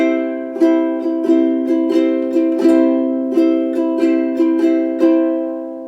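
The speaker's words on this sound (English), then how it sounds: "The bouncy strum sounds like this." A ukulele plays a bouncy, rhythmic strum, repeated chords in a lively shuffling pattern, close and clear with no voices.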